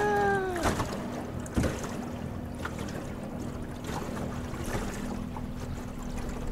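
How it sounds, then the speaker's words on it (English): A small fishing boat's electric trolling motor hums steadily on the Savannah River, a faint low drone under lapping water and light splashes, preceded by a brief rising whine. "That's why I got the trolling motor all spun up."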